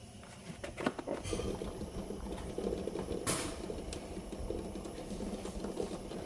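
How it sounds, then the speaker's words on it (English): Pot of water with large eggs heating toward a boil on a stove, a soft steady bubbling and patter with faint clicks, close and low in level, without talk. "I'm just going to bring those up to a boil"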